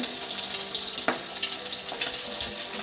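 Food fries on a home stove, a close, continuous hiss of oil with a few crackles and faint clinks, steady throughout with no talking.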